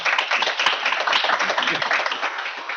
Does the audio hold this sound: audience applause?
yes